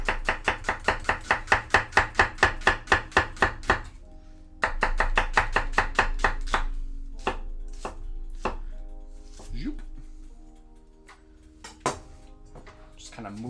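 A knife chops onions on a cutting board in a fast, even run of sharp thuds, then slower, scattered chops while a person talks over them.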